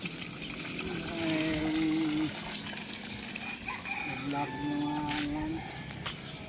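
A chicken clucks and calls a few times against an outdoor background with running water and some distant voices.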